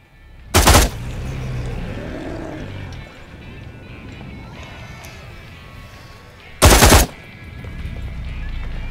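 Bursts of weapon fire in the VR zombie shooter Contagion VR Outbreak, two short loud volleys several seconds apart, with a player talking quietly and game ambience between them.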